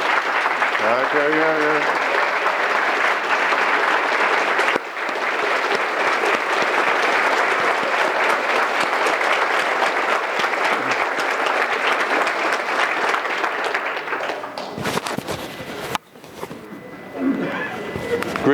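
A conference audience breaks into sustained, loud applause that fills the room for a long stretch, dipping briefly near the end before resuming, with a short voice heard over it.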